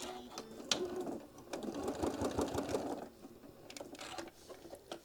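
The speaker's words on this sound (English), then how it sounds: "we're going to stitch that over, making sure everything is smooth on the back side, and get that stitch down" A sewing machine stitches a travel case for a mini iron in quick, steady mechanical bursts of rapid needle patter, close and fairly quiet, with brief pauses between runs.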